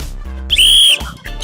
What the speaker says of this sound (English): When I blow the whistle once